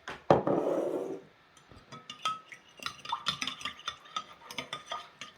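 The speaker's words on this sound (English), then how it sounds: "give it a stir" A mixture is stirred in a bowl: a splash opens, then a run of quick, close scraping and clinking strokes of a spoon against the sides, with no voices.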